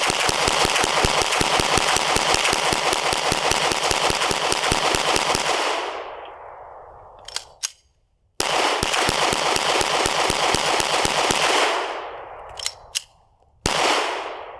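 A golden Glock pistol fires in two long, rapid strings of shots, each lasting several seconds and separated by brief pauses. The reports are loud, close and sharply repeated.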